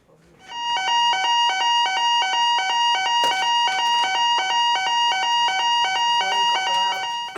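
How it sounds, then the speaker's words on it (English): A site fire evacuation alarm rings loudly and continuously, a steady electronic bell-like pulsing tone repeating rapidly without pause from start to finish. "In the event of a fire or evacuation, you will hear this alarm."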